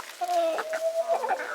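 Hens cluck and murmur close by in a backyard flock, a few short soft calls over a steady tonal drone, with no talk.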